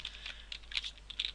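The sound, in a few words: typing code on a computer keyboard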